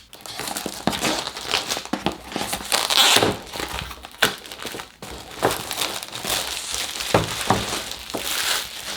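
Close crinkling and crackling of plastic packaging around a Streamplify Ctrl Hub 7 with sharp snips and rustles, as scissors cut through wrapping in irregular bursts.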